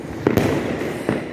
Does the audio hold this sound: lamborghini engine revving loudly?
no